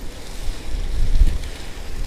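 A headwind buffets the microphone while cycling in Oulu, making a loud, low, rumbling roar that rises and falls in gusts and continues throughout.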